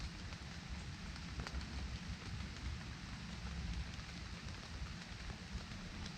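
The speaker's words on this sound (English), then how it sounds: "Another little rain shower." A light rain shower falls steadily outdoors, a continuous even patter and hiss of drops with no voices over it.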